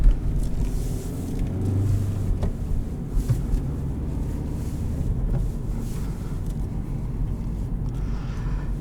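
A 2018 Honda Civic LX with a manual gearbox rolls over icy road, giving a steady low rumble of engine and tyre noise with faint wind and a few light knocks from inside the cabin, no talking.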